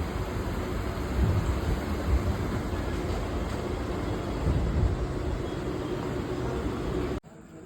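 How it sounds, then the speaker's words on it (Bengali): A Kalyani local train running at night, a loud, steady rumbling roar with heavy low-end throb and faint clatter, heard continuously until it cuts out abruptly near the end. "ট্রেন ছেড়েছিল কল্যাণী সীমান্ত থেকে, আর এটা হচ্ছে কল্যাণী লোকাল, দেখো।"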